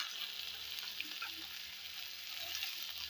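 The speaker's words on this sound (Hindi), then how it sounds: "मैं जो प्याज काटे हैं प्याज डाल दी" Chopped onions and green chillies frying in a hot pan for desi pasta: a steady, close hiss of sizzling oil, continuous and fairly quiet, with faint crackles and light stirring scrapes mixed in.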